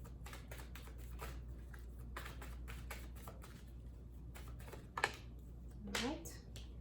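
Tarot cards are handled and shuffled in a series of soft tapping, riffling bursts, close and moderately quiet over a low steady hum, with a brief louder sweep near the end.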